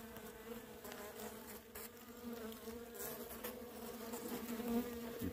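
Honey bees drone steadily at a struggling beehive with capped honey inside, a close, continuous buzzing hum with individual bees swelling louder as they pass, fairly quiet overall and no voices.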